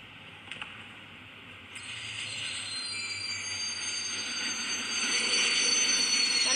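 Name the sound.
train arriving in video game Indian Bike Driving 3D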